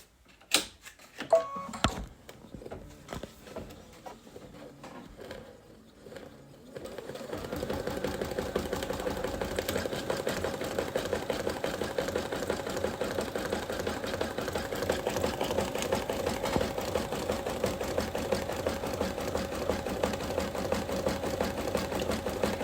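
A Brother ScanNCut 330 machine stitches a zigzag pattern, starting after a few sharp clicks and beeps, then running with a steady, continuous mechanical whir that stays close and fairly loud to the end.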